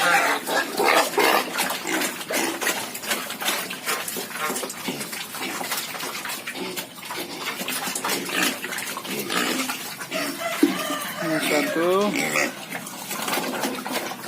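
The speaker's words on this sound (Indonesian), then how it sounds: "ini namanya anak babi" Piglets squeal continuously and loudly while being fed, a dense chorus with water splashing and clattering underneath, and someone talking over the noise now and then.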